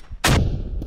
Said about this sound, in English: Oh, that nade got him. That was a really good nade.